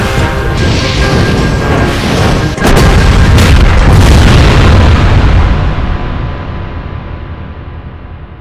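A huge explosion in Halo Reach gameplay: a loud, dense roar with a second heavier blast hitting midway, then a long rumbling decay fading out, with no talking.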